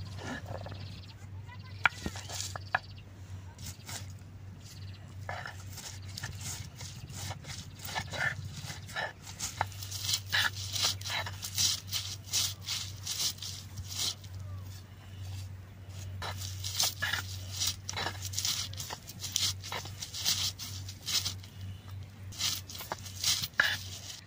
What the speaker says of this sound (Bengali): এখন পাটায় বাইটা মিক্স করে নেব।